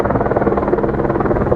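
A helicopter hovers overhead in broad daylight, giving a loud, steady rotor thrum with a dense pulsing texture that holds for the whole short stretch, with no voices over it.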